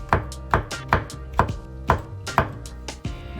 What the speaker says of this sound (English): I got some fast chopping for you